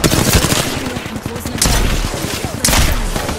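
Loud rapid gunfire in the Apex Legends video game, repeated close bursts of automatic shots with heavy impacts, a brief game voice line mixed in.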